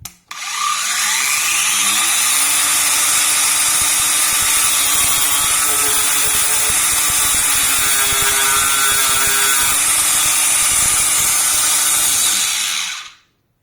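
A Parkside cordless angle grinder spins up and cuts through a hardened screw, a loud steady high whine holding for about twelve seconds before spinning down, with no talking.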